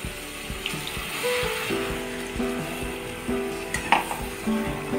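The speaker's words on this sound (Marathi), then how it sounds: "ह्याच्यामध्ये आता पाणी ओतून घेऊया।" Water poured into a pan of fried masala paste hisses and sizzles continuously, with stirring scrapes and occasional clinks of utensils against the pot, close and moderately loud throughout.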